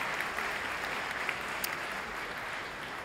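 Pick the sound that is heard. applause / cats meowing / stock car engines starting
applause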